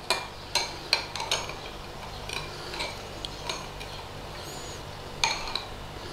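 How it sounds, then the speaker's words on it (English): A cup of milk with lemon juice being stirred gives a few light clinks of a spoon against a glass or cup near the start, followed by faint, quiet tapping with no talk. "Give that a little stir."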